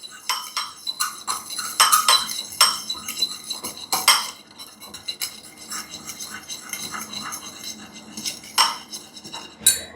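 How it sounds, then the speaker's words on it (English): A utensil stirs a chopped fresh dill mixture in a bowl, giving irregular bright clinks and scrapes against the bowl, close and fairly clear, with a faint voice in the background. "I'm gonna mix that together."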